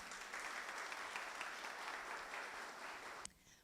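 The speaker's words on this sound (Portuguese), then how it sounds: "Peço uma salva de palmas" An audience at a tech summit panel applauds steadily for about three seconds before the clapping cuts off abruptly into near silence.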